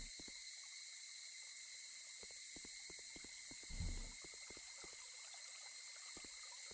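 Gentle trickling water with sharp ticking clicks over a steady high insect-like hum, quiet throughout with one soft low swell, heard in a dark level of the game Satogaeri.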